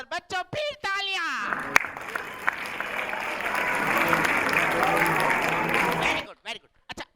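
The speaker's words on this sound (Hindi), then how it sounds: "बस बच्चों, फिर तालियां।" A children's audience at a puppet show in Islamabad bursts into loud, dense applause lasting several seconds, framed by talk before and after.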